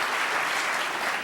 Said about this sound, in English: Came back for the applause on that one